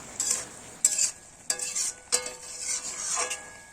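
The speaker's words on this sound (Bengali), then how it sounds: "এরপর নেড়ে চেড়ে ভালো করে আর কি ঘন্ট বানাতে হবে" Bottle gourd and shrimp curry being stirred in a pan, a spatula scraping in several distinct strokes over a low sizzle, close and fairly loud, with no voices.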